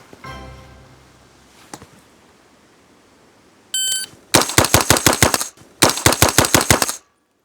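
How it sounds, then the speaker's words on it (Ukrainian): A timer beep, then two fast bursts of gunfire from a 9mm Inter Ordnance carbine, each a quick string of loud, sharp shots nearby, separated by a brief pause. "Шість пострілів в максимальному темпі в мішень на 6 метрах."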